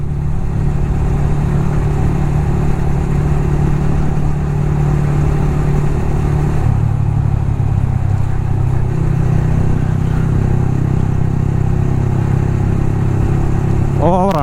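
A motorcycle with a loud aftermarket exhaust rumbles loudly and continuously at close range, its deep exhaust note rising and falling slightly as it revs.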